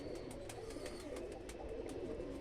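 Pigeons coo steadily in a loft with eggs being kept by a breeding pair, soft repeated coos and faint chirps layered over a continuous low room murmur, fairly quiet and with no talk.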